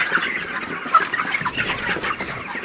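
Broiler chickens in a farm shed on a hot, sunny day cluck close by in a busy, overlapping chorus of short calls, loud and without any talking.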